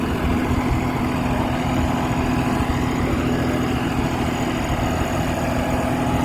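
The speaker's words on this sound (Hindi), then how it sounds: "तो भाई जो ट्रैक्टर है तीसरे लो में कर दिया फिलहाल।" A New Holland 5620 tractor engine runs steadily at low revs in third low gear, a constant deep rumble with a droning hum and no letup.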